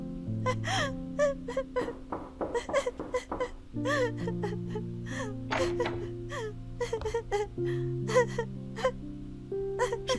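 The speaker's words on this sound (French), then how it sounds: "Ne pleure plus, ma chérie." A girl cries and whimpers in drawn-out, wavering moans and sharp gasps, close and loud over a steady music bed throughout.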